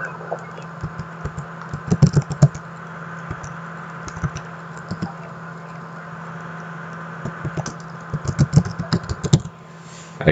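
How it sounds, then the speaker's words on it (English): Fingers typing on a computer keyboard in bursts of quick, close clicks, with short pauses between runs and a faint steady hum underneath; no one speaks. "You have a good typing speed."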